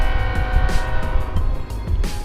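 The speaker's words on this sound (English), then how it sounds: "this video is gonna be about how this car sounds" A car idles with a steady low engine rumble and faint exhaust burble, close by and fairly loud, running continuously with no voices.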